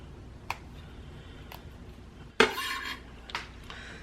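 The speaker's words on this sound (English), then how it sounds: "Now I'm just going to chop that up." A knife chops fresh herbs on a cutting board: a few sparse, sharp taps, then a louder clatter of blade and board, with one more tap near the end. The sounds are close and come with no talk.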